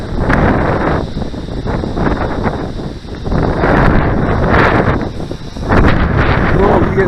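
Strong, gusty wind buffets the microphone in a continuous heavy roar while a custom Jet-V4 RC wing flies in super heavy wind, with the gusts swelling and easing over several seconds.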